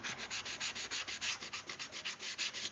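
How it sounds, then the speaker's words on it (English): Wooden egg holders are hand sanded with quick, rhythmic back-and-forth rasping strokes, roughly eight per second, close and steady with no talk. "after this one we are halfway there on the hand sanding"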